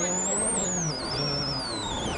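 Ken Block's Monster World Rally Team rally car runs a snowy Rally Sweden stage, its engine a loud continuous roar with a rising and falling whine as it is revved hard, and an announcer talks over it.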